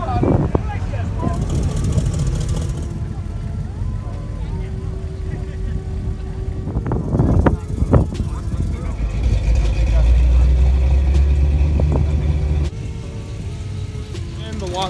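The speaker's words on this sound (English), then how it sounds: "At the end of the show now, all the cars are leaving." Engines of cars leaving the lot at the end of a car show, a steady nearby motor rumble with passing vehicles swelling and fading, and people talking over the traffic.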